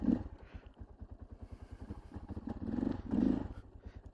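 A motorcycle called the double XX idles in first gear, its engine throbbing in a steady, close, pulsing rumble that swells a little near the end, with no talking.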